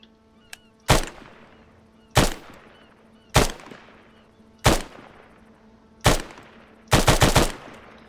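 A police mod weapon fires on a shooting range in the video game Arma 3: five loud, evenly spaced single shots, each with a short echoing tail, then a quick rapid burst of several rounds.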